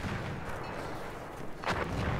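Semi-automatic weapon fire in the Battlefield video game: scattered faint shots under a constant rumbling wash of battle ambience, with one sharper, louder burst standing out near the end.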